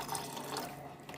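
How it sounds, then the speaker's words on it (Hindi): Water poured into basmati rice that has been tossed with cumin and oil for chicken tikka biryani, heard as a brief, faint, steady stream with no talking. "अब इसके अंदर हम 1 इंच ऊपर रख के पानी ऐड करेंगे।"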